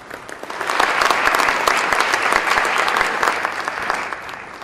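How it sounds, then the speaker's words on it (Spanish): Audience applause for a saxophone quartet at a university Teachers' Day celebration, a dense, steady wash of many hands clapping that swells and holds loud for several seconds. "Un aplauso nuevamente para ellas,"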